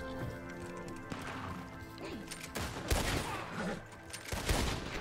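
Rapid gunfire with horse hooves and crashes in the video game Red Dead Redemption II, several loud shots erupting in bursts over a busy, noisy background.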